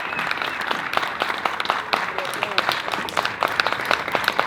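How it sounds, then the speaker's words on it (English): An audience applauds steadily at a commemorative program honoring a project team, with dense, continuous clapping and a few sharper claps standing out throughout. "So please give them an ongoing round of applause."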